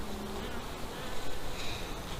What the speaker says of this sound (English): The bees are consuming the candy board quite a bit.